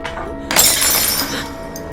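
Glass shatters in a dramatic film scene, a sudden loud crash with a bright tinkling spray that rings on and slowly fades over the following second.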